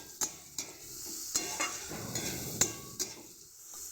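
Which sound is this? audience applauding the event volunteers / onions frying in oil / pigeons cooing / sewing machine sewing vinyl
onions frying in oil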